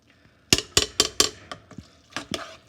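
A spoon stirs rosé sauce with parmesan in a pot, giving a quick series of loud scraping clinks at a steady rhythm, close up with no talking.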